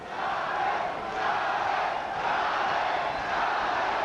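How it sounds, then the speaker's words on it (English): A boxing arena crowd roars steadily in a sustained, chanting swell for Julio Cesar Chavez during his fight with Scott Walker, loud and continuous with gentle rises and falls and no clear voice standing out. "Crowd chanting for Julio."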